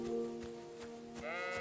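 Sheep bleating in the medieval open-world game Kingdom Come: Deliverance II, several wavering, tonal bleats that overlap, then a higher bleat near the end, heard close over a low steady ambient bed.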